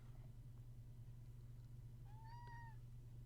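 A single drawn-out cat meow is heard indoors, faint against a steady low hum, with no talking over it.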